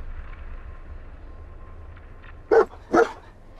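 A dog in the video game Fallout 4 VR lets out two short, loud barks in quick succession over a steady low background hum.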